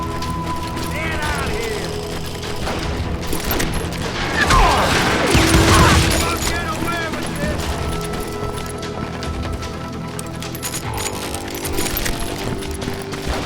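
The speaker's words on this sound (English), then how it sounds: "They're shooting in the street." Gunfire in a street shootout from the Western shooter Call of Juarez: Gunslinger, with sharp shots and mechanical clatter over a bed of music, loudest around the middle, under talk.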